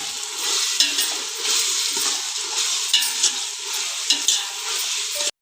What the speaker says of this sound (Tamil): இது கூட எல்லாம் நல்லா இப்போ வதங்கி வரட்டும்.